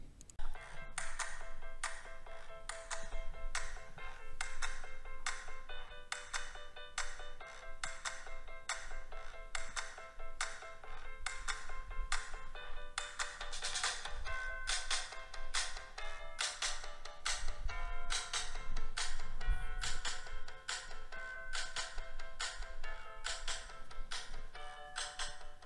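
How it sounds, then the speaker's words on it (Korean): Music played from a smartphone and picked up through an EPOS Sennheiser GSP 300 series headset microphone, heard as a steady, thin-sounding recording with rhythmic beats and sustained tones running continuously without pause. "다음으로 스마트폰으로 음악을 재생해 보겠습니다."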